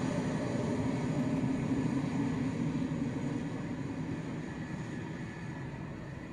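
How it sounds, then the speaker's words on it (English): A German Air Force aircraft takes off and flies past at an airfield, heard as a broad, steady distant engine roar that slowly fades over several seconds, with no voices. "German Air Force Romeo 14, clear for takeoff and fly past"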